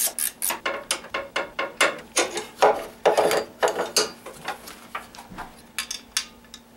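A ratchet wrench with a 10mm socket loosens bolts on a 2000 Voyager's bumper area, giving a steady run of quick, close metallic clicks in a repeating rhythm with no talking.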